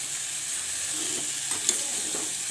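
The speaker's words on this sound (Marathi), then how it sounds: "आता आपण धुवून घेतलेली कारली यामध्ये टाकून घेतलेली आहे कारली टाकल्यानंतर छान असं मिक्स करून घ्यायचं आहे" Bitter gourd pieces stirred and frying in hot oil in a pan for an onion bitter gourd bhaji, giving a steady soft sizzle with a few light stirring scrapes.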